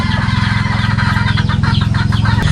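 Chickens cluck loudly and close by, a busy, continuous chorus of short clucks with no talking.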